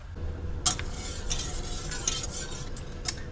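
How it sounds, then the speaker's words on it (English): Mozzarella curds are stirred in a pot over stronger heat, a continuous soft swishing with occasional light clinks of the utensil against the pot, steady and close. "I just want to keep this stirring at the moment, because I'm heating it a little bit more strongly."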